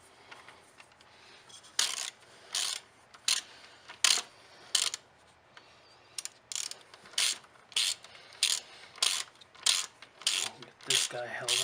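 A ratchet tightens a bolt that holds the power steering reservoir in a car, sounding as short, regular bursts of rapid clicking with brief pauses between strokes, up close and fairly clear.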